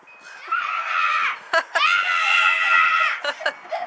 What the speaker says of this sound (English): I keep hearing some screaming out here.